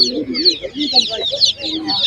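Hens at an outdoor animal market clucking continuously up close, several birds overlapping in busy chatter with faint voices in the background.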